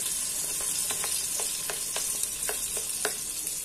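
Onion frying in butter in a pan, giving a loud, constant sizzle close by. Repeated utensil taps and scrapes recur roughly every half second over the hiss, with no talking.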